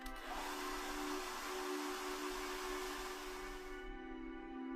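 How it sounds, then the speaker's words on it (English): Hair dryer in the SeaBed video game, a steady close whooshing blow with a constant motor hum that cuts off near the end. "I turned off the hairdryer and placed it on the dresser."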